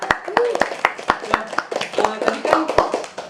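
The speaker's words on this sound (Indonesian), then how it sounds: "tepuk tangan dulu" Studio audience clapping on an Indonesian talk show, sharp separate hand claps in an irregular rhythm, close and loud, mixed with talking voices.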